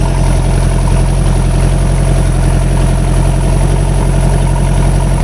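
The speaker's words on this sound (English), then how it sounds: "Sounds like rod knock, but it's the exhaust echoing." An engine idles close by with a rough, thumping exhaust pulse that echoes off nearby surfaces and sounds like rod knock, steady and loud throughout.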